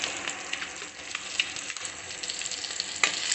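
Eggs frying in a pan with salt, chili and turmeric, giving a steady, close sizzle that stays dense and crackly throughout, with occasional sharper pops and no voices.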